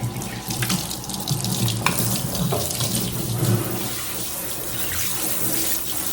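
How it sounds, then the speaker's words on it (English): Water running steadily from a kitchen tap into the sink during cleanup after cooking tilapia, broccoli and rice, a continuous close splashing rush with no talk. "Then I'm going to clean the sink."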